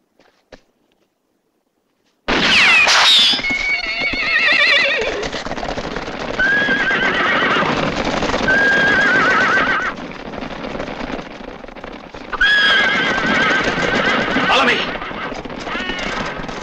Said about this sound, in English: Hey, you see those horses?